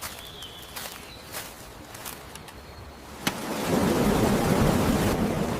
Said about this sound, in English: The rain is falling heavily outside.